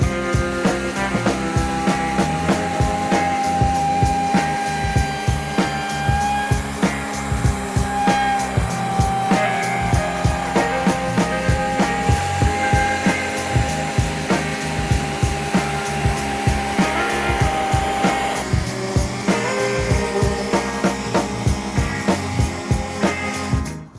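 Bosch router taking a light finish pass over the top of a small wood slab, a continuous loud high-pitched motor whine with regular pulsing cutting strokes across the surface, no voices.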